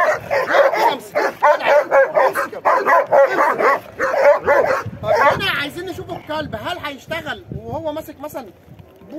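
A frightened dog at a training session barks in a fast, loud, close run of repeated woofs, then breaks into higher yips and whimpering whines as the barking fades.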